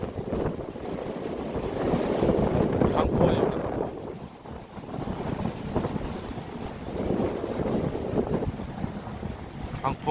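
Strong wind roars steadily across a mountain trail on Balwangsan, buffeting the microphone in heavy gusts that swell and fade throughout.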